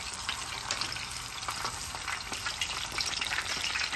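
Chicken wings frying in hot oil in a deep fryer, a steady close bubbling sizzle with crackling pops throughout and no voices.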